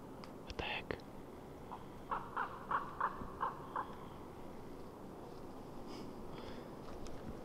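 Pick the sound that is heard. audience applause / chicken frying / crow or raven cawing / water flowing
crow or raven cawing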